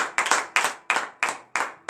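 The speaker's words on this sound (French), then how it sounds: "Donnons de vive acclamation à notre Seigneur Jésus." A congregation at a Friday morning prayer in Benin claps in unison, six loud, evenly spaced bursts of hands in a brisk rhythm with near silence between them.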